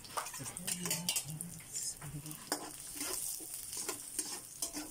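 Garlic sautéing in a pot for Filipino corn soup, with a steady close sizzle of frying broken by repeated utensil scrapes and metallic clinks against the pot, and no talking.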